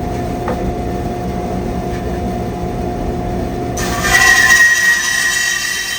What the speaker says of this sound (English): Because the blade on the table saw can't go up high enough to rip a 2x4 down in one pass, we're going to do it on the bandsaw here